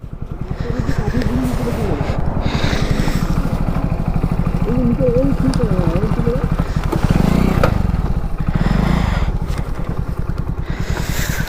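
A touring motorcycle is lowered off a vehicle amid constant engine noise and clatter, with people calling out close by throughout.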